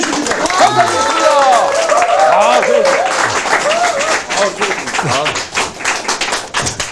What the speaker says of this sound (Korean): 큰 박수로 맞이해주십니다